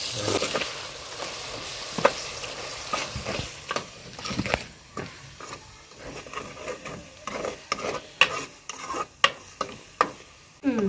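A spoon scrapes and clatters in a pan of potato and tomato curry that sizzles softly, with a run of irregular close stirring knocks and scrapes and no one talking.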